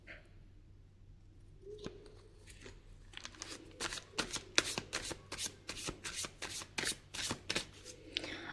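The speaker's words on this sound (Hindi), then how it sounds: "कार्ड्स की शफलिंग एंड कार्ड्स निकलवाने की प्रोसेस" Tarot cards shuffled repeatedly by hand, a quiet start giving way to a steady run of crisp riffling bursts, close and with no talk.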